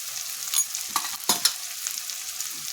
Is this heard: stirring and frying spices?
yes